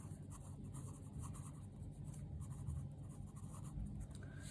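Hand writing on paper during a maths lesson on pair of linear equations: a steady, faint, continuous scratching of pen strokes, close by and quiet, with no talking.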